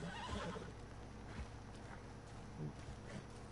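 Horse neighing in Red Dead Redemption 2, a pinkish horse in the game, whinnying clearly with hoof clip-clop steps beneath, fairly close over a steady background hum.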